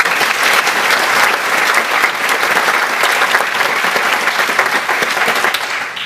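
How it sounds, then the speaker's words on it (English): A live audience gives loud, sustained applause for a producer at a Disclosure Project event, a thick continuous roar of clapping that tapers off near the end. "please give him a round of applause"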